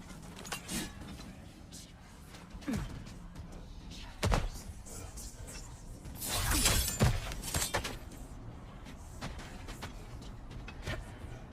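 A heavy door crashes open during a God of War Ragnarok cutscene, a loud shattering burst midway surrounded by thuds and impacts, set against background game ambience.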